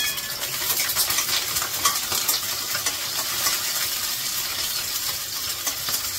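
Green chillies frying in hot oil under a lid in a covered pan, giving a steady bright sizzle with dense crackling pops and spatter throughout, close and fairly loud, with no talking.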